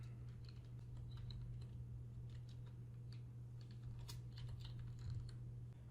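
Keys on a computer keyboard are struck in quick, irregular bursts of soft clicks, faint and close over a steady low electrical hum.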